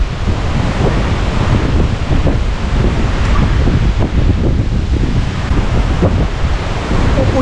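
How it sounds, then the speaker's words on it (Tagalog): Strong ocean waves crash and surge at a beach in Naic, Cavite, a loud continuous roar of surf mixed with heavy wind buffeting the microphone. "Malakas ang alon, look at that."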